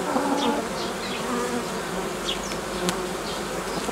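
Steady buzzing of many honeybees close by at the hive, some returning with pollen, a dense droning hum with individual bees zipping past now and then.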